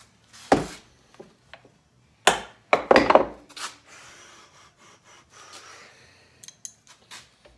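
A wrench working a stubborn bolt in the engine cases of a 1985 Harley-Davidson FXRS Evo, a few sharp metallic clicks and scraping strains with short grunting breaths, close and intermittent.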